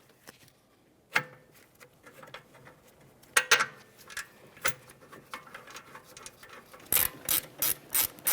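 A ratchet clicks as it snugs the rear hub assembly mounting bolts on a 2009-2014 Nissan Maxima 3.5L during a wheel bearing replacement. Sharp clicks come in scattered runs, then turn into a steady quick series near the end.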